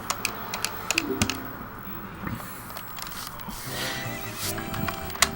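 A horse whinnies at a ranch in Zelda Ocarina of Time, with light clip-clop hooves and ticking game sounds around it, fairly soft and without talk.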